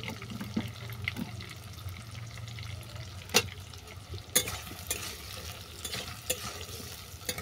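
Chopped potatoes fry with bitter gourd in a pan, a faint, steady sizzle under occasional scraping and clattering of a stirring spoon, quiet and close with no talk.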